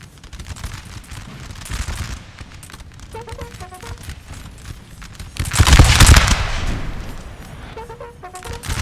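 Musket volleys from Napoleonic infantry in the strategy game Napoleon: Total War, a battle at Hanau in 1813: steady crackling gunfire throughout, swelling into a loud, dense burst of volley fire midway, with no talk.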